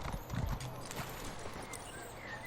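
A horse's hooves clip-clop in ESO Greymoor, a steady trotting rhythm set against ambient game sound and music.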